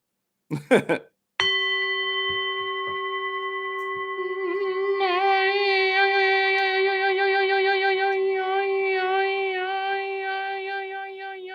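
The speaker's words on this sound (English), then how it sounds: "we should ring the bell before we start" A single bell is struck once, loud and close, and its bright metallic ring sustains and slowly fades for several seconds, with a brief clatter and cheering just before.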